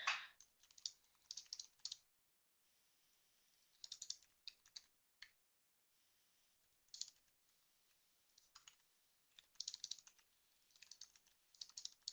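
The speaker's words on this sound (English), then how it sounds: "I might actually type that in and then add an explanation here" Bursts of computer keyboard typing with short pauses between runs of key clicks, close and fairly quiet, with no talk.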